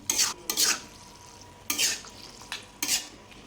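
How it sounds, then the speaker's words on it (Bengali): Mixed vegetables stir-fried with a tempering of whole spices, heard as four or five short bursts of stirring and scraping in a pan, separated by quiet gaps and a soft background sizzle. "আমার সবজিটা ফোড়ন দিয়ে নিলাম"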